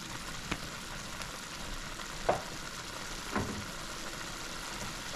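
A pot of fish curry sizzles quietly as okra and green mango go in, with a soft steady fry and a few brief stirring clunks and splashes standing out.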